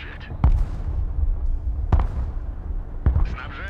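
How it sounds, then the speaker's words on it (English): Three distant artillery booms land at spaced intervals over low battlefield rumble in the war strategy game Broken Arrow, as a voice talks throughout. "our artillery is working on softening up the buildings on the other side of the second bridge"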